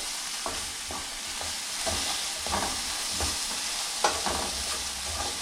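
Potatoes and onions sauté in oil in a pan over fairly high heat, giving a steady sizzle with periodic scraping stirs and a few soft utensil clicks, close and alone without talk.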